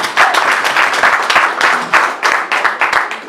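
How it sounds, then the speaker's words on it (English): Audience applause at the Muthaiga Open golf presentation, a brisk burst of many hands clapping close and loud, lasting a few seconds in an uneven patter. "So, round of applause, and thank you."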